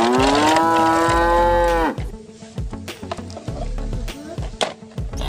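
A red toy cow lets out a loud, drawn-out electronic moo that slides and then cuts off, followed by scattered clicks and knocks of toys being handled.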